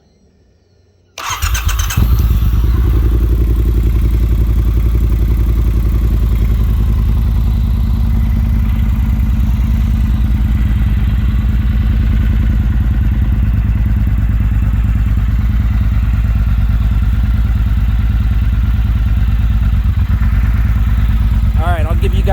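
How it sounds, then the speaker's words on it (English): A Triumph Bonneville Bobber motorcycle engine cranks and fires after a second of quiet, then settles into a loud, close, steady rumbling idle that holds to the end. "let's see if we can fire this thing up"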